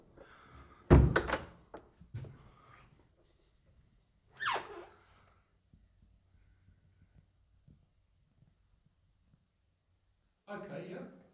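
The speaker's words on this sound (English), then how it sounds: "Okay, we'll shut the door." A heavy church door thuds shut close by, followed by a few quieter knocks and shuffles, with a voice briefly speaking later.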